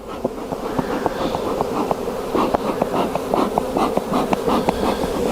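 Many honey bees buzzing close around a hive as a swarm is merged with a split colony under smoke, a dense droning hum with individual insects whizzing past the microphone in quick bursts.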